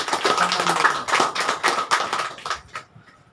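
An audience applauds the founding chairman at a Nepali organisation's gathering, a dense burst of hand clapping that thins out and fades over a few seconds.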